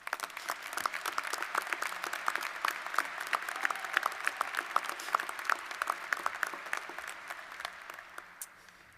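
An audience at a commencement ceremony applauds steadily for several seconds, many hands clapping at once in a dense, lively patter that tapers slightly at the end.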